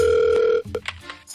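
A telephone rings in a radio studio as a production team phones political show guests, a steady electronic ring tone sustained for about half a second and then cut off, followed by short bursts of faint background sound.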